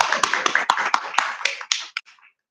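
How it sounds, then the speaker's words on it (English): A small group claps at a book release party, a handful of distinct, sharp claps in an uneven rhythm that thin out and stop within a couple of seconds. "give a clap for that"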